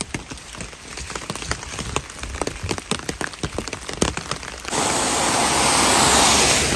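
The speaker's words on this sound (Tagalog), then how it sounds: "Malakas talaga yung ulan" Heavy rain comes down steadily in the UK, patters and taps on a surface at first, then turns into a dense, loud hiss for the final seconds.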